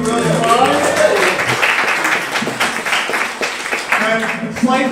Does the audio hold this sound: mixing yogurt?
no